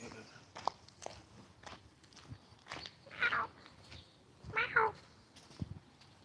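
A cat gives a couple of short, moderately loud meows about a second apart outdoors, amid faint background noise and scattered clicks while someone talks quietly nearby.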